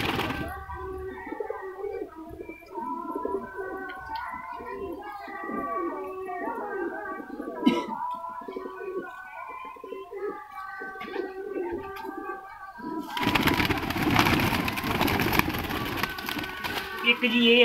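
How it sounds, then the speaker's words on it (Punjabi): A white-eyed female pigeon coos in repeated soft, throaty phrases close by, followed near the end by a burst of rustling, flapping noise. "ਇਹ ਕਬੂਤਰੀ ਆ ਜੀ ਚਿੱਟੀਆਂ ਅੱਖਾਂ ਵਾਲੀ"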